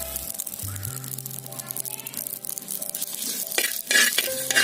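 Dried red chillies and curry leaves sizzle in hot oil, a steady crackling fry with stirring scrapes and a louder burst of spitting near the end, close by with no talking.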